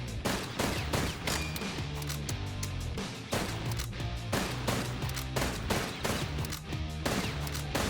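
In the video game BPM: Bullets Per Minute, a shotgun fires rapid booming blasts over a driving, rhythmic music track, one shot after another at close range, with no speech.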